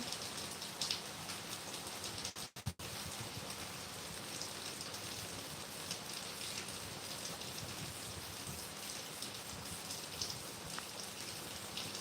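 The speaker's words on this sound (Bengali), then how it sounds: "বৃষ্টির ওয়েদারে কিছু শোনা যাবে না মনে হচ্ছে এত বৃষ্টি হচ্ছে" Heavy rain pouring outdoors, a dense constant roar of drops drumming on surfaces, loud and unbroken for the whole stretch with a brief dropout partway through.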